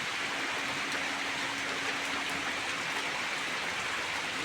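Steady rain falls continuously, a dense, even patter and hiss throughout with no talking.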